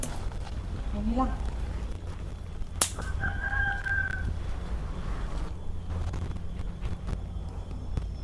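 A rooster-like bird call rises briefly near the start, followed by a sharp click and a short tonal squawk, over steady low background rumble.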